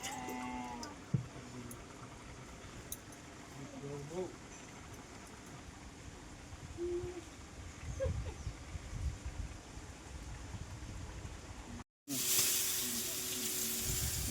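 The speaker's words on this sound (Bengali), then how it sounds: "এবার আর কি আলু ভাজা শুরু করে দিয়েছি" Potatoes fry in a pan in a cramped home kitchen, giving a faint, steady sizzle throughout, with a brief loud rustle near the end and a voice speaking quietly at times.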